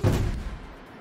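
A single gunshot in the party racing game Fling to the Finish, a sharp loud thud-like blast at the start that decays quickly into a fading low rumble.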